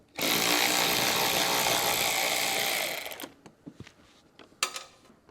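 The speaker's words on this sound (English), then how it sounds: "I'm using a electric ratchet here" An electric ratchet removes T25 screws from a 2023 Audi while a hidden hitch receiver is being fitted. A loud, rough buzzing burst runs for about three seconds, followed by scattered clicks and metallic clinks.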